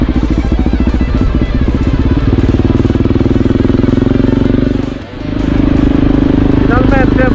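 A motorcycle engine drones and pulses steadily while riding down tight hairpin bends on Sardinian roads, briefly dipping before picking up again, with someone talking over it throughout.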